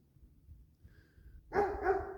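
A dog barks twice, fairly close and moderately loud, after a quiet stretch with a faint low rumble and a brief thin tone in the background.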